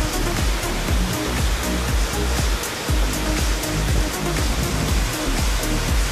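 Rushing water of the Fuy river in Chile, a loud, steady roar of broadband churning and splashing that fills the whole stretch without pause, close by and with no voices.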